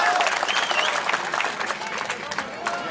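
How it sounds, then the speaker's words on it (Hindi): A large crowd at a political rally in Aurangabad bursts into applause during a speech, a dense, loud, sustained roar of clapping mixed with shouting voices. "ठोको ठोको ताली ठोको"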